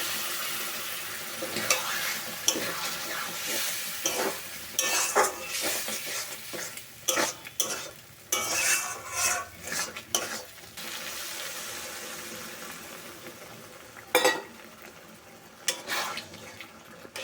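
Chicken liver curry being stirred in a pan, with hot water poured in, giving scraping spoon strokes, a soft sizzle and splashy pouring bursts that come in uneven clusters at close range with no talk.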